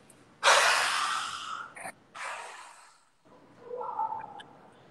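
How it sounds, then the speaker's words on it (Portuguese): Deep forceful exhale with the tongue stuck far out during pranayama breathing, a loud breathy rush followed by a second shorter push, then quieter breath sounds; no talking. "Inspire profundo e solte, colocando a língua bem para fora."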